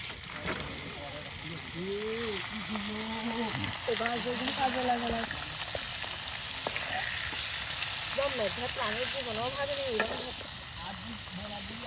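Tilapia fish frying in oil outdoors, a continuous loud sizzle and crackle running underneath lively voices talking and calling out throughout.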